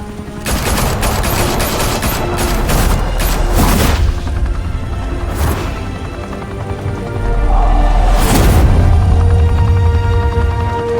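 Heavy gunfire erupts in the Batman Telltale Series game, dense overlapping shots and bursts with a deep boom midway and another around the end, loud and continuous with no voices.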